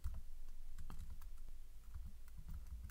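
Soft, steady typing on a computer keyboard, a quick run of light clicks at close range with no talking.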